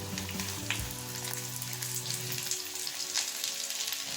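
Egg Maggi noodles sizzle and fry in a pan as they are flipped and stirred, a steady hiss with faint scraping and no talking.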